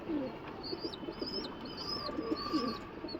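Pakistani Highflyer pigeons coo softly in their loft, a few low, rolling calls repeating close by over faint background noise.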